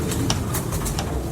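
A prized flying pigeon coos in a few short repeated calls, close and fairly loud over a steady background hum.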